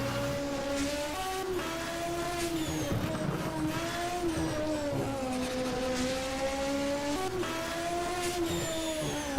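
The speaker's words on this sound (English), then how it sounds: "I'm driving one of the Opel GTE Psychos." An Opel GTE Psycho hill climb race car engine on a European Hill Climb Championship course at Col St. Pierre, revving steadily with rising and falling pitch through gear changes, loud and continuous with no voices.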